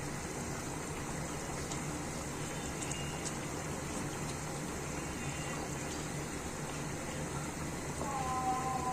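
A spicy Bengali egg curry simmers in a pan with a continuous bubbling, hissing boil that stays fairly even throughout, close and moderately loud, with no talk over it.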